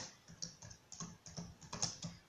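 Keys clatter in an uneven run of light taps on a worn computer keyboard, quiet and close, with no voices over them.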